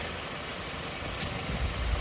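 A 2019-2020 Hyundai Elantra sits idling with the hood open, its engine left running. It gives a steady low hum, close and even, with a slight swell toward the end and no speech.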